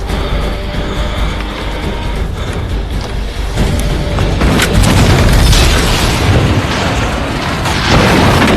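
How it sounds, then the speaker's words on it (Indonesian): A bomb explodes in a war film, a heavy roaring boom that swells midway into a loud, sustained rumble with crackling debris and mechanical noise beneath. "menyuruh seorang wanita untuk meledakkan bom di sana"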